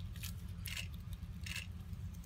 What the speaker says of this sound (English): Then get your knife inside here up against the backbone and start drawing the knife